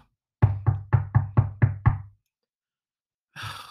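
Seven sharp, evenly spaced knocks on a door ring out in quick succession, loud and close, followed by silence and a brief further sound, set in a horror story.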